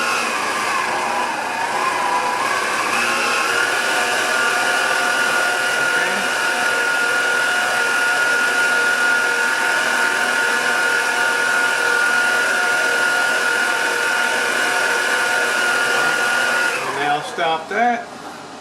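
An electric mixer beats sugar pecan butterscotch pound cake batter as milk is added, giving a steady, loud motor whine that holds even throughout and then cuts off near the end.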